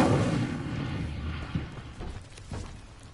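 The Incendio fire spell cast in the video game Hogwarts Legacy, a heavy rumbling blast of flame that starts loud and dense, then thins into a crackling tail with a few smaller bursts.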